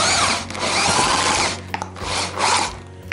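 A homemade electric meat grinder built from an old Soviet grinder runs with a blunt auger, a loud close motor whine that dips and surges as food is pushed through.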